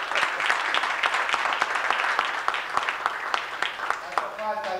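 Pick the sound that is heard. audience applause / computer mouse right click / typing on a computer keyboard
audience applause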